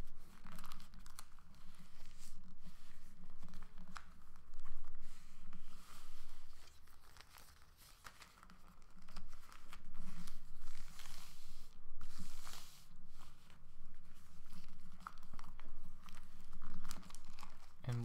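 A plastic bag being folded by hand, giving steady soft crinkling and rustling that continues through the whole stretch at close range, with no voices.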